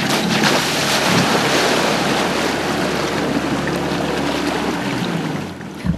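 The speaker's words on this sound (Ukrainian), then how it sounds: "Звичайна машина на дорозі у воді перетворюється на амфібію." An amphibious car, an ordinary road car converted to float, crossing a river, heard as a loud, steady rush of water and wind noise that holds evenly before easing off at the end.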